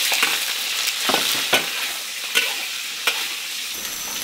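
Fish sizzling in a hot wok with oil and salt, a steady frying hiss broken by sharp clacks of a spatula stirring and scraping every second or so, close and fairly loud.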